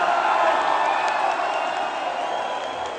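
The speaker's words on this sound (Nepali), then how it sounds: "यहाँहरू आयोजकलाई धेरै धेरै एकपल्ट जोरदार तालीले धन्यवाद दियो" A concert crowd applauds and cheers the organizers of a show in North Carolina, a dense steady wash of clapping and scattered whoops that stays loud before easing slightly.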